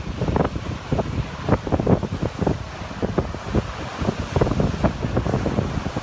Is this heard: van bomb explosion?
no